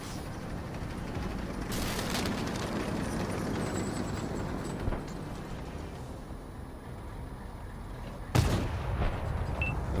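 Tank cannon fire in a tank battle game aimed at an IS-3, a sharp broadband blast at the start and another loud shot near the end over a steady rumbling engine background.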